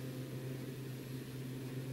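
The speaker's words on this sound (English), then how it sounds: "You can hear the turbos kicking in." Turboprop engines of a Beechcraft B1900D in the X-Plane 11 flight simulator at full power give off a steady, droning hum with a strong low tonal whine and broad hiss, constant and unbroken throughout.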